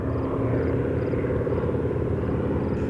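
Boeing Stearman biplane trainer at a fly-in, its engine giving a steady droning rumble with a low propeller throb, heard continuously at moderate distance with no talk over it.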